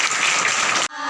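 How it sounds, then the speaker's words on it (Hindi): A school audience at an Independence Day program gives a dense burst of clapping that lasts about a second, then cuts off abruptly into quieter sound. "एक बार जोरदार तालियां हो जाए।"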